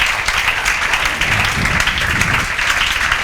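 Students in a class clap hard for a classmate's achievement, producing a sustained, loud wash of applause with some faint voices mixed in underneath.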